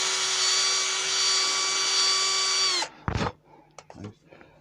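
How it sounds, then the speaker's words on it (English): A power drill whines steadily at high pitch drilling a hole in a wood-turned snowman, then stops abruptly, followed by a few clunks and handling sounds. "I'm going to drill a hole in the mark where I have put the"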